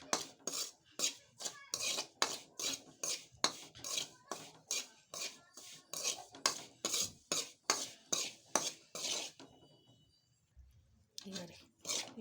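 Rice flour roasting in ghee in a pan, stirred with a metal spoon: a long run of rhythmic scraping strokes, close and clear, about two a second, pausing near the end before a final scrape.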